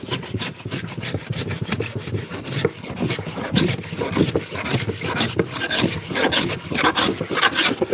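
A hand plane shaves across a small wooden table top in steady, overlapping rasping strokes, close and continuous with no talking.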